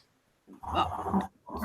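A dog growls and snarls in two short, close rumbling bursts separated by a brief pause, with no talk during the sound.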